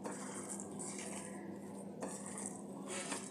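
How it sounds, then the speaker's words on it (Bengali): Chicken meatball mixture being mixed with bread crumbs in a bowl, soft continuous scraping and stirring with light clinks of utensil against dish. "ব্রেড ক্রাম্বটা দিয়ে দেবো বাইন্ডিংয়ের জন্যে। সব কিছু ভালো করে মিশিয়ে নেব।"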